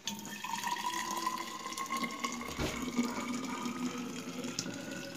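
Infused herbal tea pours into a thermos flask in a continuous, close liquid stream lasting about five seconds, steady and moderately loud, with no talk.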